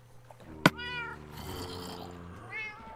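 A cat meows in Minecraft, a few short harmonic cries close by, with a sharp click near the start, and no talking over it.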